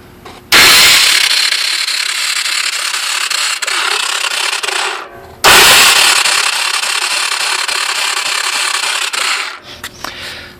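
Honda Big Red 250ES starter motor cranking when the starter relay is jumped, two long whirring cranking runs of about five and four seconds with a short break between, loud and close without the engine firing.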